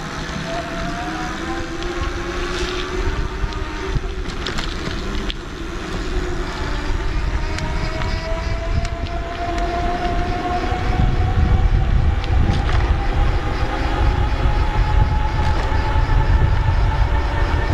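Nireeka Homie electric bike pulling away on throttle at full assist level 5, with a rising motor whine climbing steadily in pitch over steady road and wind rumble, loud and continuous throughout, no talking.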